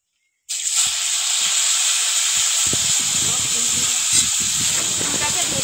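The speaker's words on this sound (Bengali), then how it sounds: "এবার কুলগুলো তেলের মধ্যে দেব।" Washed jujube fruits drop into hot mustard oil tempered with five spices for a sweet-sour pickle. After a moment of silence, a sudden loud hiss bursts up and holds as a dense, continuous sizzle, with faint low knocks in the pan.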